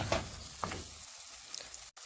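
Tomatoes sautéing in a pan for Dindigul Thalapakkatti style veg biryani, a soft steady sizzle with a few quick stirring scrapes.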